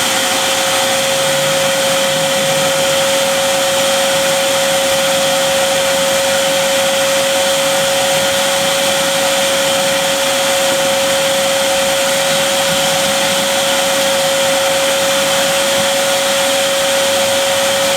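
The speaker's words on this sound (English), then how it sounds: "I'm going to turn on the shop vac. It's going to get a little noisy" A shop vacuum fitted with an Oneida Dust Deputy cyclone separator runs continuously with a loud, steady whine and a sharp constant tone, unbroken and alone.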